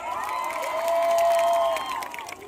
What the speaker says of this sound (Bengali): তোমাদের জন্য একটা জোরে হাততালি হয়ে যাক।